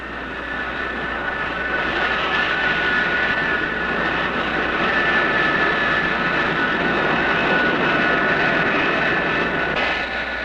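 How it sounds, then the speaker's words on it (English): American F-105 and Phantom jet planes taking off from an air base in Thailand, a loud continuous roar of jet engines, steady and sustained, with no voices. "These planes, American F-105s and Phantoms, take off from these bases daily to bomb targets in North Vietnam."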